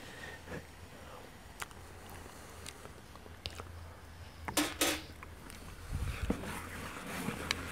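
A metal spoon clinks against a pot of homemade ajvar during tasting, a handful of quiet, scattered taps and scrapes against a low background.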